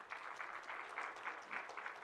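Faint applause from an audience at the National Laser Symposium, steady clapping that carries on through the clip from some distance.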